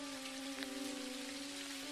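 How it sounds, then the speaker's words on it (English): Steady in-game rain from the farming game Dinkum, a soft continuous patter heard alone with a faint tonal hum running underneath. "it's raining"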